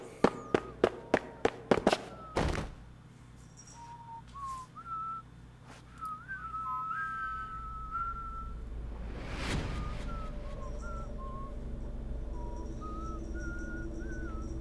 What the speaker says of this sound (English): He's whistling the theme.